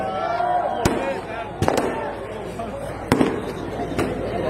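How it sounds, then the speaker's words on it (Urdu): Firecrackers bursting at an outdoor election rally in Jafar Nagar, several sharp loud cracks at irregular intervals over a continuous crowd hubbub with talk and music in the background. "یہ جو پٹاخے بازی ہو رہی ہے یہ ہم نہیں کر رہے۔"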